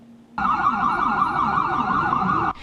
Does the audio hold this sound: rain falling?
no